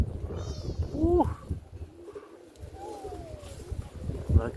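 Roller pigeons coo outdoors in a windy setting, with a few soft, near coos and warbling calls over breezy background noise and faint voices.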